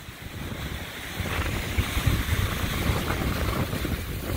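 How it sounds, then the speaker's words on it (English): Surf breaks on a beach during a tropical storm, with rough, continuous wash and heavy wind buffeting the microphone. "a lot of closed out waves at this point in time, not a lot of riding time"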